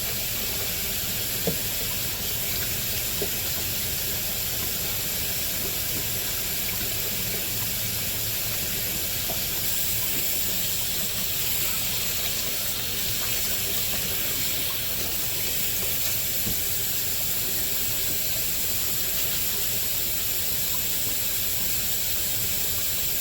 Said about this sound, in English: Next, I am going to wash my hands.